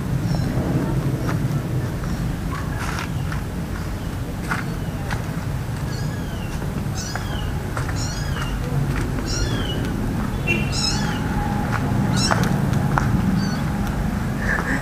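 A cat meows repeatedly while following along outdoors at night near a cemetery, its short calls rising over steady wind and rumbling background noise.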